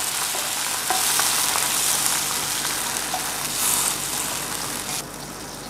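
Sliced chili peppers sauté in a hot pan with a steady crackling sizzle and occasional stirring clatter, and near the end the sound shifts as chicken broth is poured in.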